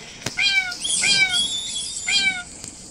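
A cat in the video game Cat Simulator meows three times, clear and close, with a short sharp click before the first meow.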